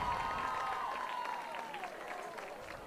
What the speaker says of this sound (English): please a nice round of applause for the Tiger cheerleaders working hard on the sideline this evening.